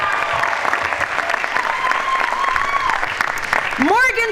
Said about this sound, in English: give them a roaring round of applause for helping making this day possible